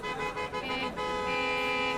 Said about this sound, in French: Un concours de klaxons se fait entendre proche du carrefour vers lequel je me dirige.